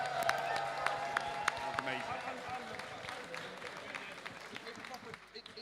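A crowd at a beetleweight robot combat tournament claps and cheers, scattered sharp claps and applause fading over several seconds beneath an announcer's voice.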